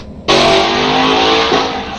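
A car engine somewhere in a neighbourhood at night revs hard and holds a loud, rasping roar, with a slight drop in pitch near the end.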